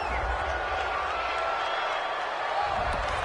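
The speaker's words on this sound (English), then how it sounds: "This home crowd, they're happy with that call." Home crowd in a PS4 football video game cheers after a penalty flag, a steady broad roar of voices at moderate loudness running throughout, with a low rumble underneath.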